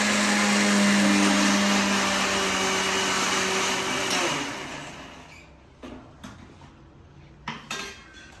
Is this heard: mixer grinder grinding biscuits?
yes